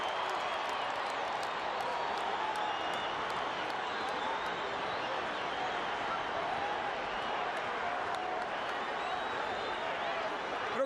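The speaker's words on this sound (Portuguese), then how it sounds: "Ouça a torcida brasileira." Brazilian national team supporters roaring in a FIFA football match, a dense, steady stadium crowd wash with scattered claps and cheers, constant and broad for the whole stretch.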